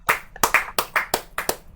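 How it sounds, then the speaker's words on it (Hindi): A few people clapping in a sharp, spaced rhythm at a corporate recognition ceremony, each clap crisp and close, forming a short burst of about ten claps. "जोरदार तालियां।"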